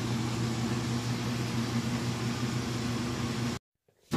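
A Frigidaire stacked washer runs its spin cycle, giving a steady, loud mechanical whir with a low motor hum that holds constant before cutting off abruptly near the end.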